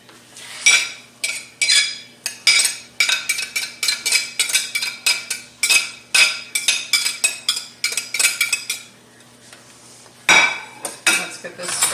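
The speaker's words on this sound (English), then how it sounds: "Let's get this stirred up" Metal spoon stirring a dish in a pot, producing a steady run of loud, close clinks and scrapes against the pot's sides, briefly pausing near the end before resuming.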